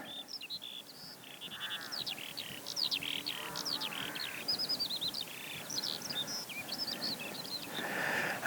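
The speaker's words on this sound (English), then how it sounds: "all you can hear is the birds" Several birds chirp and trill in a quiet countryside, their quick, high calls overlapping at moderate distance against soft background ambience.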